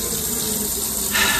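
Water runs steadily from a household tap in a broad continuous rush, close and alone, growing slightly louder and brighter near the end as the flow strengthens.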